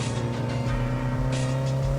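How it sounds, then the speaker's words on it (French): A Mini John Cooper Works engine revving hard under acceleration, a loud, steady high-rpm drone heard from inside the car, straining as it nears the red line. "Le moteur marche, mais à l'approche de la zone rouge, il s'essouffle un peu"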